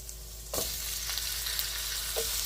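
Beef hits a hot pan for chow fun and sizzles loudly, then keeps frying with a continuous crackling hiss while it is stirred, occasional scraping knocks from the utensil breaking through.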